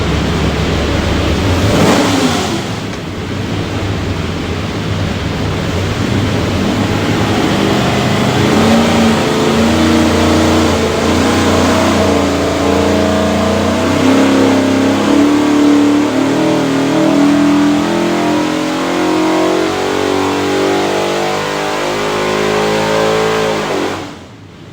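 A 593-horsepower 427ci small-block Ford built for a 1969 Mustang revs on a dyno, a loud continuous roar sweeping steadily upward for about twenty seconds before cutting off abruptly.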